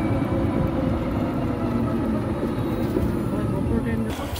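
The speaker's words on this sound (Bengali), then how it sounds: "আর আমার পিছনেই ট্রেন দিয়ে দিয়েছে, এই ট্রেনে করে ফিরবো।" A train idles at Krishnanagar City Junction railway station, giving off a steady, loud mechanical rumble and hiss that holds evenly throughout at close range.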